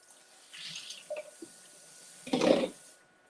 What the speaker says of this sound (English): All right, so we're just gonna rinse and reuse.